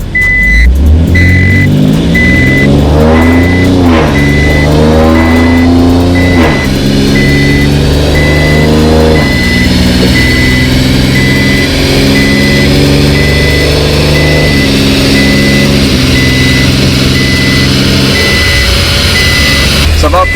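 Infiniti Q50 with a tuned transmission and RaceROM tune accelerating from a stop, engine note rising through the revs with clear shift points and a steady reversing-style beep in the background, loud and close throughout.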